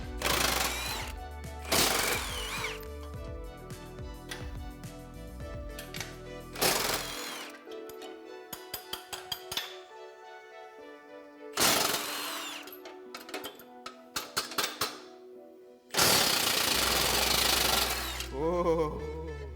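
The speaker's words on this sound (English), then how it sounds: "We'll get the trailer hitch removed using a 21mm socket," An impact wrench with a 21mm socket zips off the trailer hitch bolts on a 2015-2019 Ford F-150, in several loud hammering bursts separated by quieter gaps with small clicks and rattles, close up.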